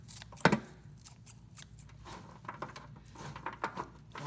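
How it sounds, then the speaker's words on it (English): Kitchen scissors snipping sweet potato leaves on a kitchen counter, giving a few quiet crisp cuts with one sharper snip near the start and soft rustling of leaves between them, close and faint. "Put that kitchen scissors to use."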